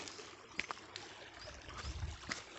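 Spring-fed water flowing gently along a shallow stream at the foot of the Western Ghats, a faint steady trickle with a few soft splashes close by, quiet and alone.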